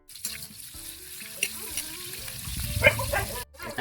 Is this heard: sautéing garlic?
yes